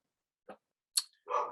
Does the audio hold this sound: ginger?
no